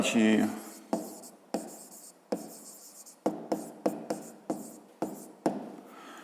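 A pen or pencil writes a math solution for a fifth-grade exercise, a run of short scratchy strokes and taps in quick uneven bursts, with a voice heard briefly at the start.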